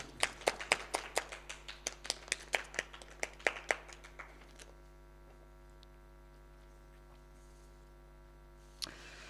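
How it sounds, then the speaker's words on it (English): A handful of audience members clap for a guest speaker: sparse, distinct claps over the first few seconds that fade out, leaving a steady electrical hum. "A round of applause for him, ladies and gentlemen."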